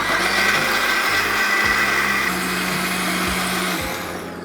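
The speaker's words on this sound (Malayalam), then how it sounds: "നല്ല പേസ്റ്റായിട്ട് മിക്സിയിൽ അടിച്ചെടുക്കാം." A mixer grinder blends banana, sugar, cardamom powder, two eggs and a glass of milk into batter, a loud, steady motor whine with shifting pitch that winds down at the end.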